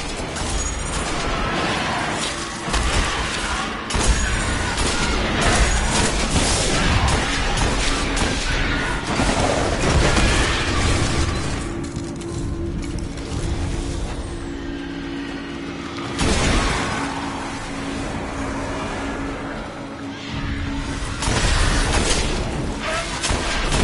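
An alien weapon in the video game Destiny firing and exploding: loud, dense booming blasts and crashes with mechanical rumble, in repeated heavy bursts throughout.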